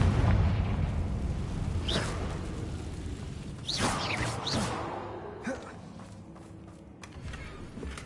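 Confringo fire spell explosions in Hogwarts Legacy, booming blasts with whooshing bursts scattered across the clip, mid-distance and fairly loud over a steady game backdrop.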